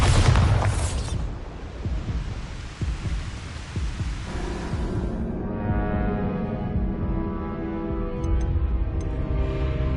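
A Bombarda blasting spell in Hogwarts Legacy explodes with a loud, close burst at the start, then fades into a long, low rumbling decay and a soft ringing hum.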